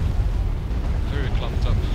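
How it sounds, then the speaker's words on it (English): Grenade blasts in a Warhammer 40k video game, a dense rumbling burst of explosions that fills the short moment, with voices mixed in. "Very nice grenades"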